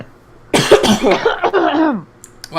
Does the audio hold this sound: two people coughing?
yes